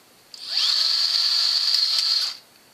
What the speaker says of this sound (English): Easiest way to get rid of those is to just take a drill bit